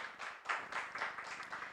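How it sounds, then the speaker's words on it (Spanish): A church congregation applauds during an Easter Sunday service, soft, distant clapping in quick irregular bursts, fairly faint throughout. "Dale un aplauso al Señor."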